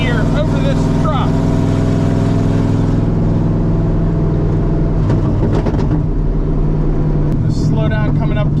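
Loud, steady engine roar from a 1986 GMC 7000 plow truck while driving, heard from inside the cab with a deep continuous drone and some rattling, with faint talk underneath.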